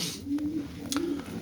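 A cock pigeon in a loft gives two soft, rolling coos close by, each a low drawn-out call, with light rustling and faint background noise around them.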